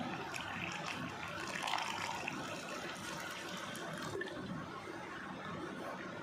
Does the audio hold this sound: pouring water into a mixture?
yes